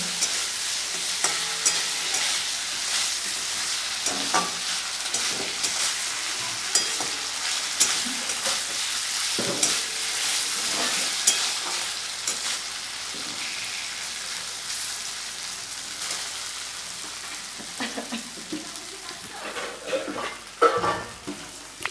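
Ginger paste, onion and garlic fry steadily in a pan, giving a continuous soft sizzle with scattered crackles and occasional scraping stirs throughout, with no talking.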